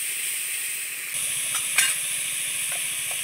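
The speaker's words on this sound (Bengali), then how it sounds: "ওলকপিটা এভাবে একটু তেলের সঙ্গে নাড়াচাড়া করে দিলে কিন্তু ওলকপির গন্ধটা পুরো কেটে যাবে।" Grated kohlrabi being stirred in hot oil, a steady bright sizzle with a few scraping stir sounds, close and moderately loud, with no talk.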